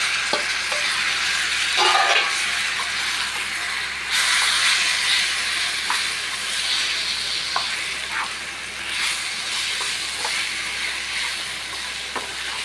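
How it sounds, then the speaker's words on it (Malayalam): Pre-cooked chicken frying in a pan for a chicken thoran, giving a loud, steady close-up sizzle throughout, broken now and then by brief scraping stirs, with no voices. "ഒരു 5 മിനിറ്റിൽ കിടന്നൊന്ന് ഫ്രൈ ആയോട്ടെ"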